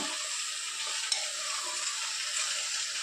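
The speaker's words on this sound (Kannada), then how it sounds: "ಬದನೆಕಾಯಿ ಹಾಕೋಬೇಕು ನೋಡಿ ಇದು ಎಣ್ಣೆನಲ್ಲಿ ನೀಟಾಗಿ ಎಣ್ಣೆನಲ್ಲೇ ಬೇಯಬೇಕು" Eggplant pieces frying in hot oil for vangi bath, a steady close sizzle with light stirring scrapes, alone without talk.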